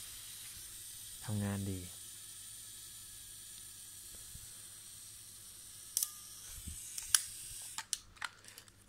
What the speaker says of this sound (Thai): นี่การขึ้นฟิล์มเพื่อจับเวลาถ่ายนะครับ